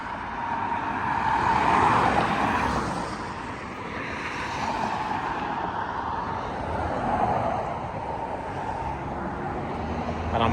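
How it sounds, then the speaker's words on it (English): Cars pass along a busy New York City street in a broad traffic roar that swells, fades and swells again over about ten seconds, moderately loud and continuous, with no one talking. "I'm gonna wait for these cars to go by"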